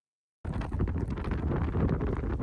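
Strong wind buffets the microphone in a continuous rough roar, starting abruptly after a moment of silence and holding steady to the end.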